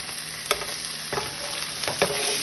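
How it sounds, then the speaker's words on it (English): Cod fish browns in a frying pan with a steady sizzle, broken by a few light scrapes and taps from a utensil, close and moderately quiet. "And we're just gonna continue browning it."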